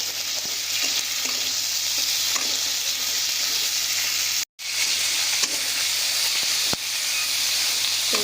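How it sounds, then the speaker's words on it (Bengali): Onion, garlic, ginger and tomato fry in a pan for a mustard fish curry, giving a steady, close sizzle with stirring scrapes and a brief drop to silence midway. "তারপরে দিয়ে দিলাম এখানে টমেটো দিয়ে এবার এইটাকে একটু ভাজা করে নিচ্ছি।"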